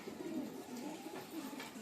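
Soft pigeon cooing, low and murmuring, continuing steadily at a moderate distance.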